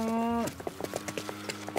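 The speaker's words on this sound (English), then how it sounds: "We only have cattle here, you know, you can see." Cattle on a farm: a drawn-out moo at the start, then a quiet, irregular clatter of hooves and movement nearby.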